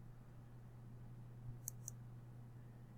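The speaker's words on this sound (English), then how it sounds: "Then I'm going to click over here" A computer mouse clicked twice in quick succession, faint and close, over a low steady background hum.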